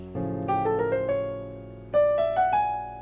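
A few chords played in sequence on a keyboard, rising in two short groups with a brief pause between.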